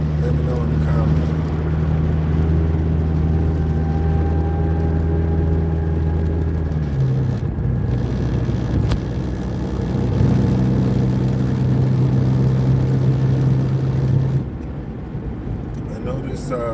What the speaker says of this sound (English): car sounds real crazy. It's got some kind of vibration, not as much.